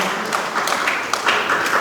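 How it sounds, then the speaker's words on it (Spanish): Church congregation clapping hands together, a dense steady wash of many claps at moderate loudness, with faint voices mixed in. "Démosle palmas al Señor, hermano."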